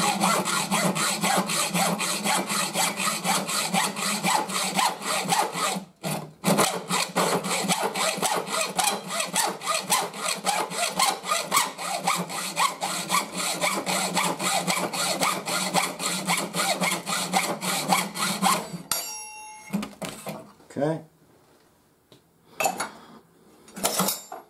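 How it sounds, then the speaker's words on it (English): Regular hacksaw frame with an 18 teeth-per-inch blade saws in steady, rapid back-and-forth strokes, close and loud, with one short pause and the cut tapering into scattered scrapes near the end. "So I have a regular hacksaw frame and I have a 18 point blade, 18 teeth per inch blade"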